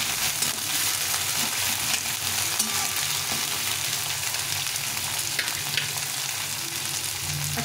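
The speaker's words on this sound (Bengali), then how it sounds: "এরপরে দিয়ে দেবো বিনসটা। এটাকে ভালো করে ভেজে নেব।" Chopped beans frying in oil for a Gobindobhog rice vegetable pulao, a dense, even, fairly loud sizzle with occasional light stirring scrapes, steady throughout with no talking.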